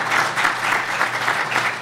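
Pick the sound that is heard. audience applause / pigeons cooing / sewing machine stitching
audience applause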